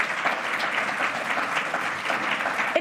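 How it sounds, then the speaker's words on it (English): Audience at an advisory board meeting clapping steadily for the board members, a dense, even round of applause from a room full of people, sustained throughout at moderate loudness. "just so that everybody can give you a round of applause"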